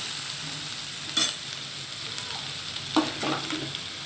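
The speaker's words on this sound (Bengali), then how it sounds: "পেঁয়াজ কুচিটা ভালো করে ভাজতে ভাজতে" Chopped onions fry in a pan with a steady, even sizzle, interrupted by a few brief clinks and scrapes of stirring, close by and without speech.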